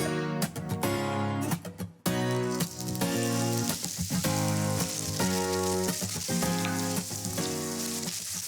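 Vegetables frying in a pan of coconut oil, a loud, steady crackling sizzle that carries on throughout with brief stirring breaks and no talking.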